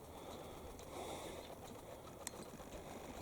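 A pigeon's soft cooing indoors or in a loft, faint and close, with low murmured calls over a background of wind and light clatter.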